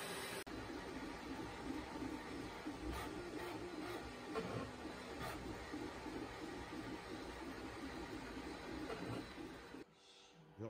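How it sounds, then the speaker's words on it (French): Creality K2 Plus 3D printer printing walls, a quiet steady whir of motors with soft rhythmic ticks and tonal stepper hum, continuous until it cuts off abruptly near the end. "de toutes les machines que j'ai utilisées, c'est assurément la moins bruyante de toutes les imprimantes 3D"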